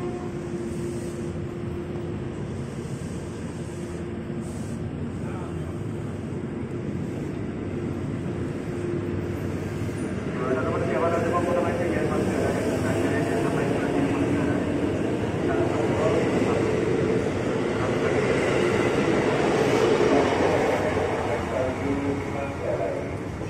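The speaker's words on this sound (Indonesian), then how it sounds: "KRL langsung berangkat lagi komuteran tujuan Bogor yang rangkainya 8 kereta ini ya" An eight-car KRL commuter train pulls away toward Bogor with a continuous low rumble and rolling noise that grows louder and fuller midway, then holds steady.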